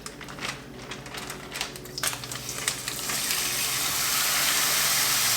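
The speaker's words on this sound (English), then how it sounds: "I'm just gonna pour the whole bag with the marinade." A loud, steady sizzle builds and swells as steak and its marinade are poured into a hot pan, with a few clicks and clatters early on, no talking.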